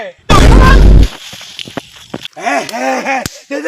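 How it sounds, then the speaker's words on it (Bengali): A bomb goes off in a comedy skit as one loud, close burst that lasts about a second and then cuts away. Voices and scattered clicks follow, with a person talking after the blast. "বোম ফেটে গেল"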